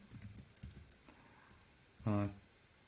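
Faint, scattered keystrokes on a computer keyboard as a query is typed, quiet and close, followed by a brief low voice near the end.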